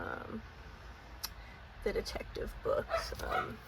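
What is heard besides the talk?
dog barking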